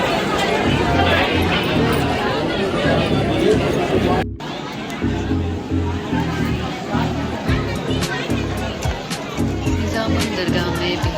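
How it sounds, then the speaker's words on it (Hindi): Dense crowd chatter fills a busy Nizamuddin dargah on a Thursday, a steady hubbub of many voices near and far with occasional louder calls, broken by a brief dropout partway through. "आज रश बहुत ज़्यादा है, थर्सडे है ना"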